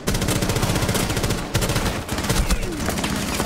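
Rapid automatic gunfire from the Rainbow Six Siege video game, loud and dense bursts of shots with a brief break midway, a sustained barrage with no talk over it.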